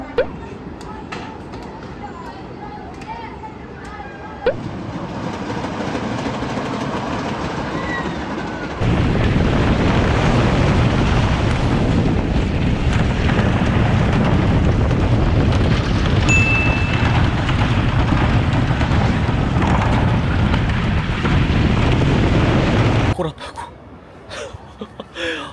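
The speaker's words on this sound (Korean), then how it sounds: "이건 엘프라고 하는 우든 롤러코스터고요." The Elf wooden roller coaster at Hirakata Park, heard as a long, loud rumbling roar of the ride with clattering and wind noise that swells midway and stays dense for over ten seconds before cutting off.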